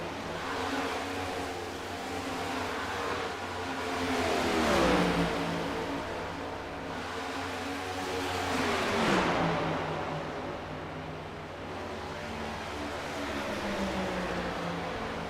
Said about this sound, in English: Andrew Wisdom, the fastest of the 3 cars out there between 3rd, 4th, and 5th